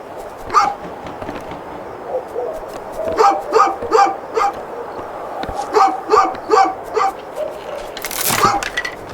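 A small dog barks in A Juggler's Tale village scene, a series of sharp yaps and whimpers in short clusters, fairly close, with quiet gaps between and a final burst at the end.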